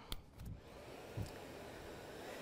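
Kärcher BVL 5/1 battery-powered backpack vacuum running with a steady, close whirring hum, broken by a couple of brief clicks near the start and middle.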